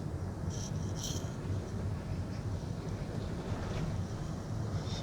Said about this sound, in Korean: 바람이 많이 부는데요